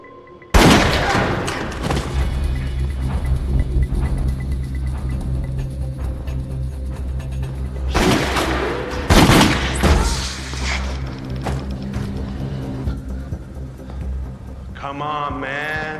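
Gunfire in an action film scene: a sudden loud burst of shots and booming impacts, followed by sustained rumbling action noise with a second heavy blast midway and a brief voice near the end.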